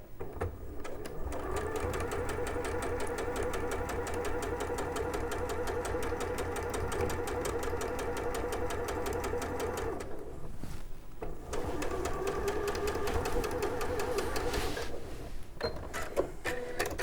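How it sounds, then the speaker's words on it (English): A domestic sewing machine stitches a quilting seam across fabric in a steady, rapid mechanical chatter, pausing briefly near the middle before running on again, close and fairly quiet. "I'm going to sew across there."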